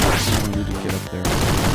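Rapid machine gun fire in the video game Downwell, a dense continuous burst with brief dips in the middle, loud and close, with no talking.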